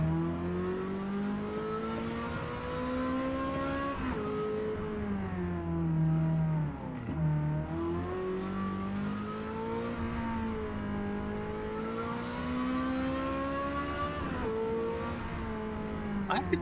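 A racing car's engine in Forza Motorsport, on the Fujimi Kaido course, rises and falls through repeated revs and gear shifts, its pitch sweeping up and dropping over and over, heard steadily and fairly quiet with no talk.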